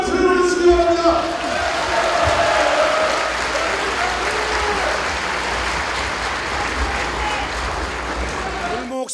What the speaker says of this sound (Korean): 문재인 후보님, 안철수 후보님께서 많은 관심을 가져주시기 위하여 다시 한번 뜨거운 박수를 보내주시기 바랍니다.